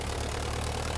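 Steady, throbbing engine drone of a Curtiss JN-4 Jenny biplane in Microsoft Flight Simulator, held at an even level for a brief moment with no voices.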